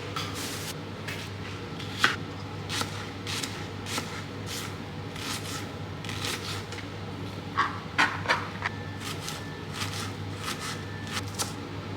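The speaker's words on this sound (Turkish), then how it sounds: "Şimdi diğer sos için şu taze soğanları doğrayacağım" Steady knife chopping of green onions on a cutting board, quick repeated taps over a low constant hum, with no talking.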